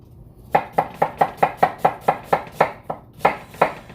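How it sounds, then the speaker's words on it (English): Onions chopped finely with a quick, even run of about a dozen sharp knife strikes, close and crisp, with one brief pause near the end. "We've all been over cutting onions on here a dozen times, so I'm just going to kind of rush through this."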